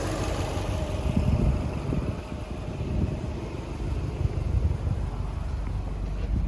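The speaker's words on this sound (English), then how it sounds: "So it's idling good." A 2002 Subaru WRX engine with a swapped JDM intake manifold idles steadily with a low, even rumble that holds throughout, with no voices.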